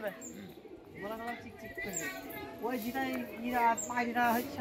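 Pigeons coo in repeated throaty phrases from a home loft flock of caught pigeons, moderately close, with a voice talking over them throughout.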